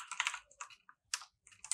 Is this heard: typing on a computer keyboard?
yes